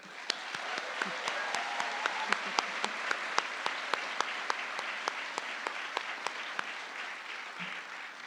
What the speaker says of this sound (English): Please join me in giving these authors and translators a huge round of applause